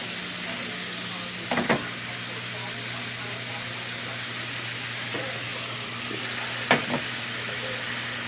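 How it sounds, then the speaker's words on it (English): A steak for a steak sandwich browns in a hot pan with a steady close sizzle, broken by a couple of sharp clinks of a utensil. "Alright, as you can see, your steak is starting to brown."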